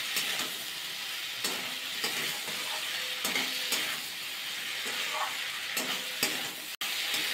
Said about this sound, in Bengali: ভালো করে মিশিয়ে নেব, যে কাঁচা গন্ধটা থাকে আদার সেটা চলে যাওয়ার দিকে কষিয়ে নেব।